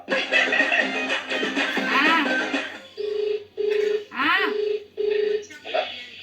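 Over background chatter and music, a phone being dialed sounds a series of four steady, evenly spaced beeping tones, clear and close.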